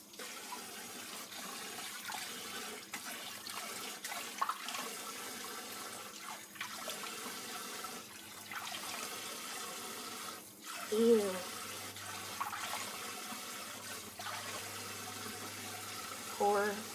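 Water runs steadily from a tap filling a bath for a dog, a continuous hiss and splash close by with short splashy bursts, under occasional talk.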